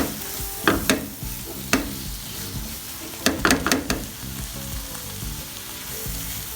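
Tomatoes and spices, with garam masala added, fry in a pan with a loud continuous sizzle, while a spoon scrapes and clanks against the pan in bursts, a quick cluster coming near the middle.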